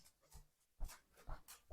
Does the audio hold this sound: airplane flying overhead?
no